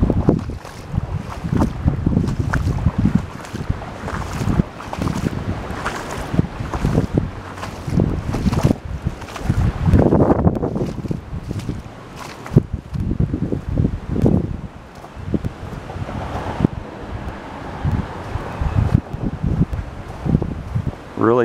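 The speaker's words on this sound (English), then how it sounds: "it is windy here" Strong gusting wind buffets the microphone outdoors with rough, roaring bursts, water lapping nearby and occasional talk underneath.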